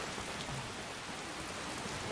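Steady rain in the video game Skyrim Special Edition, a continuous dense hiss of falling drops, even and moderately loud with no voices.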